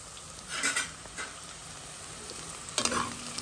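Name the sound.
stirring onions frying in a pan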